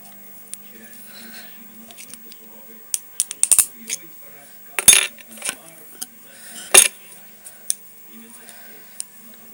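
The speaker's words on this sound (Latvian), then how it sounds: "Pārgriežam šo galu." The end of a pen is cut off while making a homemade shooter, giving a few sharp snapping crunches and small clicks spread over quiet moments, close and distinct, with soft talk between cuts.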